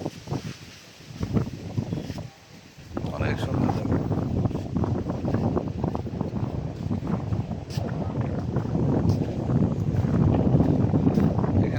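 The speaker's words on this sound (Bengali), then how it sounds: "যে কোনো সময় বাতাস এত বেশি অনেক বাতাস থাকে এখানে" Strong wind roars on the bank of the Padma river, buffeting the microphone in a dense, rushing wall of noise that swells after a short lull, with a voice talking underneath.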